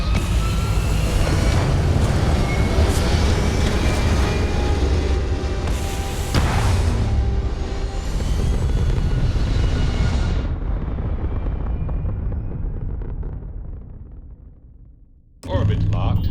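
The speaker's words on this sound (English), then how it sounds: "Prepare for liftoff." A spaceship lifts off in Starfield with a loud, sustained engine roar and deep rumble that holds steady, then fades and drops out near the end as a brief new sound cuts in.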